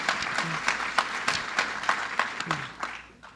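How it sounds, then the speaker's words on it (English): A round of applause for funding for farmers at a government event: scattered, uneven clapping with distinct individual claps standing out, tapering off toward the end, with a voice briefly audible. "Let's give a round of applause for the money."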